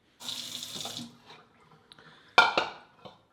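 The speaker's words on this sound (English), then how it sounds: "Gonna wash this in a few changes of water to remove any excess salt." Tap water runs briefly into a sink and stops, followed by a few splashes and wet handling sounds of salted beef being rinsed, near and moderately loud.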